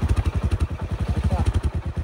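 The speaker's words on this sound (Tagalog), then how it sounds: "Ganda pa rin yung motor ni Uncle eh." An uncle's motorcycle engine runs close by with a steady, throbbing low pulse, loud and continuous throughout.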